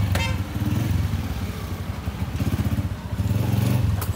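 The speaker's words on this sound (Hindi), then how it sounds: "तो अब मैं बाइक लेके जा रहा हूँ" A dirty motorcycle ridden on a hot day, its engine chugging with a steady rapid low pulse that surges and eases, close and loud, with clattering and wind noise over the top.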